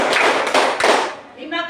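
A classroom group of students claps on a teacher's command, with three or four distinct clap bursts in quick succession, close and loud, followed by a voice speaking afterward.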